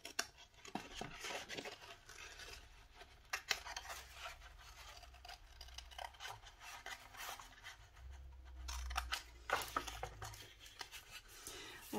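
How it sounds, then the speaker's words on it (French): Scissors cut roughly around a paper flower, giving steady close rasping and snipping with crinkling paper, sometimes faint and sometimes firmer, and no talk. "je vais découper avec mes ciseaux la fleur là."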